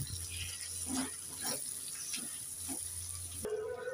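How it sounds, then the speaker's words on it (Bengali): A little water is poured into a spice mixture of turmeric and chilli powder and chilli paste in a pan, giving a soft, close trickle and splash in short bursts over a faint background hiss. "অল্প একটু দিয়ে দেব জল।"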